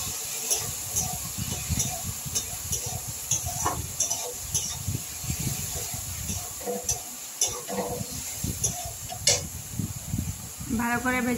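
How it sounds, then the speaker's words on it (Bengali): Potatoes and spice paste fry together in a pan for a home-cooked dinner, with a steady crackling sizzle under repeated scraping and clinking of a utensil being stirred, close and fairly loud throughout. "আলু আর মশলাটা একসাথে ভাজা হয়ে যাবে"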